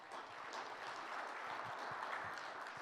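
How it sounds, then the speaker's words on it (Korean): An audience at a forum opening ceremony claps, producing a steady, fairly faint wash of applause throughout. "다시 한번 큰 박수 부탁드립니다."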